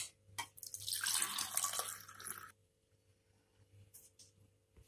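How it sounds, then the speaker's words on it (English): Homemade hot chocolate poured from a pan into two serving glasses, a steady liquid pouring stream for about two seconds, then quiet with faint clinks. "Now we will take 2 serving glasses and pour it"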